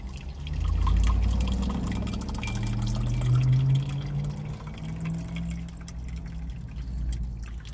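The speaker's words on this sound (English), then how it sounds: "and I pour it into one glass" Coffee poured into a glass, one of three glasses of different sizes, in a steady liquid stream that rises in pitch as the glass fills, close and alone without talk.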